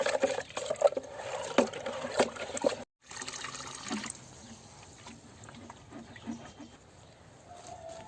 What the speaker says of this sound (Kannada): ಇದು ಲಿಕ್ವಿಡ್ ಗೊಬ್ಬರ ಅಂತೆ. ಇವಾಗ ಮಿಕ್ಸ್ ಮಾಡ್ತಾ ಇದ್ದಾರೆ.